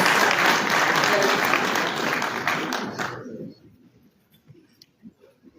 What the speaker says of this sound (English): A round of applause for our elders.